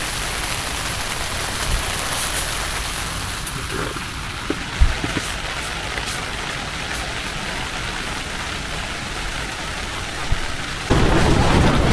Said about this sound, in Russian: На улице идет дождь